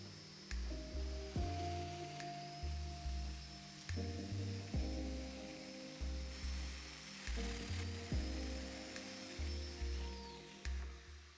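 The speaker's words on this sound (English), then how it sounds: "So with the domino set to 45, I popped a few mortises into my mitered corners." A Festool Domino joiner set to 45 degrees cuts mortises into mitered timber corners for a console table, giving repeated whining bursts of plunge cutting at a steady rhythm, each cut starting with a sharp onset and then sustaining a buzzing tone.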